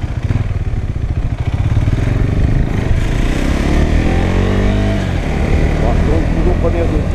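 A KTM 390 Adventure motorcycle accelerates hard through first and second gear, its engine note climbing, dropping at the shift and climbing again, loud and close with a rider's voice over the top.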